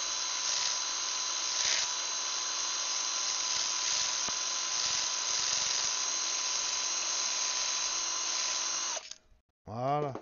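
A cylinder hone spins inside an engine cylinder being reworked, giving a loud, steady, high-pitched whirring grind for about nine seconds before it cuts off, followed by a brief falling mechanical whine.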